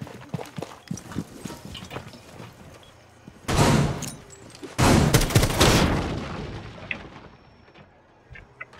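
Gunfire in Rainbow Six Siege: scattered single shots and clicks, then two loud sustained bursts of automatic fire close by, tapering into sporadic shots and faint movement.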